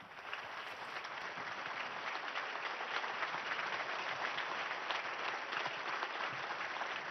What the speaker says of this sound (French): Je me demande d'applaudir la nouvelle bienheureuse.